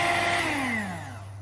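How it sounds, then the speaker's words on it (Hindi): An electric beater whirs through cake batter flavored with vanilla essence, a close, steady motor hum whose pitch drops as it slows over a second and a half. "1 मिनट के लिए अच्छे से बीट करेंगे।"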